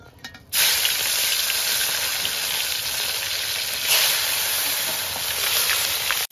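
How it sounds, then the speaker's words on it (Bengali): Pabda fish frying in hot mustard oil in a kadai on a stove, a loud, steady sizzling hiss that starts abruptly and holds unbroken to the end, with no talking. "তো মাছগুলো ভাজা হচ্ছে"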